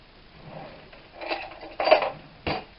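A knife cutting a log of chocolate biscuit dough into pieces on a board, a few soft knocks that get louder toward the end, each one short and separate.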